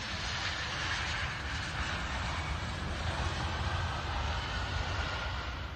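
A fixed-wing aircraft landing in fog in Tasmania, heard as a steady, loud broadband engine roar that holds without a break for several seconds, with no voices over it.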